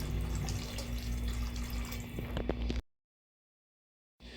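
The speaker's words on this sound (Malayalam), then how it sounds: "അപ്പോൾ നമ്മൾ വെള്ളം ഒഴിച്ചു കൊടുക്കുകയാണ്" Water poured into a boiling fish curry soured with kodampuli, a steady rushing splash for about three seconds that cuts abruptly to silence, then faint pan noise returns; no voices.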